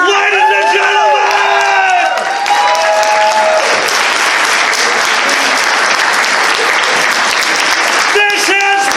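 A comedy show audience breaks into loud applause and cheering, a dense wash of clapping with whoops. A voice speaks over the start, and a host's voice returns near the end.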